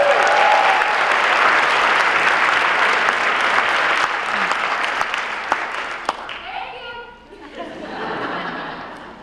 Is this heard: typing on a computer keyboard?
no